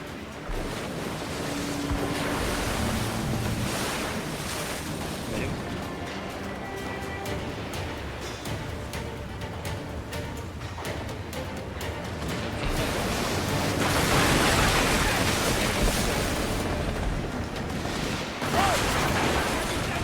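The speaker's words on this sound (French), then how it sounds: "La mer peut nous engloutir!" Sea waves in the video game Assassin's Creed Black Flag: continuous rushing surf and wind from a sailing ship at sea, swelling louder midway, mixed with creaks and other game sounds.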